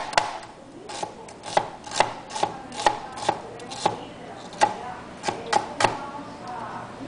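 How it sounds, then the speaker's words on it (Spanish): A knife chops vegetables into julienne strips on a board, about a dozen crisp, evenly spaced thuds in a steady rhythm, close and clear. "también lo puedo picar y de esta manera, y así me salen de una vez las julianas hechas"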